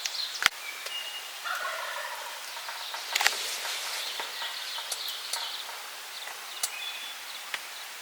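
Wild turkeys gobbling at a distance during a late-season spring hunt in Vermont woods, several birds answering one another with a few separate gobbles over faint rustling, with no talk.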